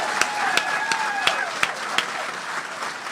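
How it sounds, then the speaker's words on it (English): Audience applause at a press conference introducing a new head coach, steady clapping from a crowd with a few sharp louder claps standing out, sustained throughout at moderate loudness. "Will you please join me in giving a round of applause for this absolute rock star, Shelly Landry."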